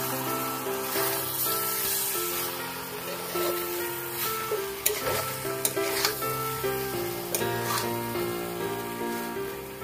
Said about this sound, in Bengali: এবার এটাকে খুব ভালো করে মিক্স করে দিই।